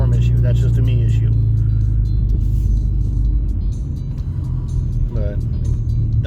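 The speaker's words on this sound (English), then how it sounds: "Sorry, my car is very noisy. It literally has no exhaust." Loud rumbling engine of a car that has no exhaust, a deep continuous roar heard from inside while driving on a storm-damaged road, with someone talking over it.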